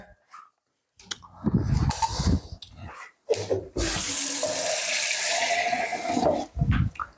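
Water runs from a tap to fill a syringe for the heater of a DeLonghi espresso machine, heard as a steady close hiss of flowing water after some handling knocks and clatter in a home setting.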